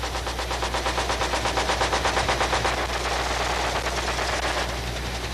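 A helicopter gunship's machine gun fires in a long, rapid, evenly paced burst, loud and close over a steady engine drone, without speech.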